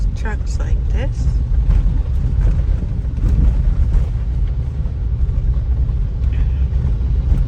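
Car driving on a rain-soaked, muddy construction road outside Accra, Ghana, passing trucks: a steady low engine and tyre rumble with wind buffeting, continuous and fairly loud throughout.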